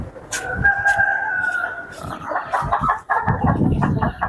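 Fighting-breed chickens at a rearing farm in Lumajang keep up loud, close clucking, with a crow breaking through over the busy flock noise throughout.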